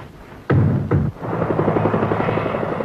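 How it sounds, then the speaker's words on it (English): A helicopter drones overhead above Buckingham Palace on a summer morning, its rotor chop steady after two heavy thumps near the start, loud and fairly close. "A helicopter over Buckingham Palace on a summer morning."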